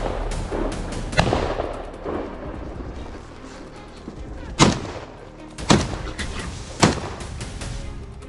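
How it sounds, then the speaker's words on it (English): Several loud, booming gunshots crack out at irregular intervals during a helicopter wild boar hunt, each followed by a rolling echo over steady background rumble. "A volley of gunfire tore through the silence loud, relentless and final."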